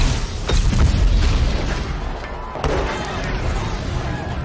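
A booming explosion from the film Ready Player One, a loud low blast with crashing debris and mechanical clatter that fades into rumbling, set against a dense, noisy soundtrack.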